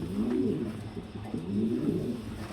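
A pigeon on a pigeon farm, a laying bird being handled, gives soft, low, repeated cooing calls that roll along close by without a break.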